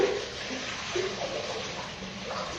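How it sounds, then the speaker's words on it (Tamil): Water pours into a cooking pot for a village-style fish curry, a soft continuous splashing stream at close range, fairly quiet and steady throughout. "எவ்வளவு தண்ணி ஊத்துறது?"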